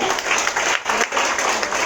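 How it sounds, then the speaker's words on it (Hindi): An audience applauds solo dance prize winners at a Sunday worship service, a dense, steady wash of clapping that fills the whole moment at close range. "उन सब के लिए जोरदार तालियां।"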